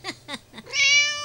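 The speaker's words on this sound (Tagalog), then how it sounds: "Nangungulit yung cat ko." A pet kitten gives a quick series of short chirpy mews, then one long, loud, drawn-out meow close by, in a quiet indoor setting.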